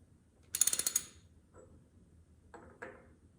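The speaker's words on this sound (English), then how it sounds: "you gotta kind of tighten this by hand to get it to set on the shaft" A part is tightened onto the shaft of a 12-valve Cummins engine, producing a quick burst of crisp ratcheting clicks up close. A few fainter metallic taps follow in a quiet room.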